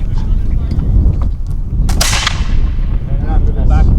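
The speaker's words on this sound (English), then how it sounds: "Okay, commence firing." Musket volley at a historical reenactment raid on a village, a loud sharp crack near the middle rising out of constant outdoor crowd noise and wind, with people talking around it.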